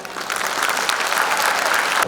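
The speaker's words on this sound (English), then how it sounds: "audience, Ada really deserves a louder round of applause" An audience at a preprimary school annual function applauds a young girl's speech, a dense, steady wash of clapping that holds strong before cutting off abruptly.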